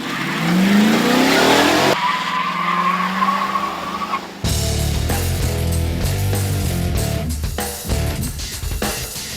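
Chevy Caprice and Ford Crown Vic police cars drag race head-to-head, with a rising engine whine and tire squeal giving way to loud, busy engine roar and crowd-like commotion, no talking.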